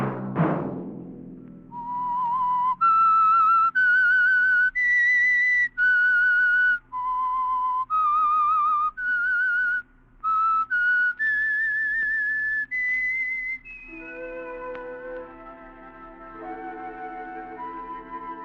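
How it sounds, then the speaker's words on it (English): A whistled radio theme for The Whistler mystery program sponsored by Signal Oil, a clear solo melody of sustained notes stepping up and down, then a lower orchestral phrase takes over near the end. "Let that whistle be your signal for the Signal Oil program, The Whistler"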